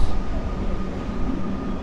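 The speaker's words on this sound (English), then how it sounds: "Right now there is a train arriving, which is the 2:22 Sunbury service." A Sunbury line train pulls into Flinders Street Station in Melbourne with a loud, continuous low rumble and hum that fills the platform, with no talking.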